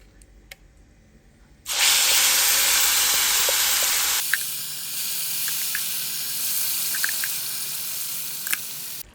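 Ground curry leaf paste drops into hot sesame oil and bursts into a loud, steady sizzle that stays close and continuous for several seconds, easing slightly partway through, with no voices.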